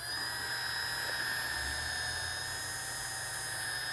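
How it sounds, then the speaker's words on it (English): An electric drill runs at a steady medium speed, mixing epoxy in a bucket, giving a continuous close whine with a low rumble underneath for the whole stretch. "So just about a medium speed drill like we're going here."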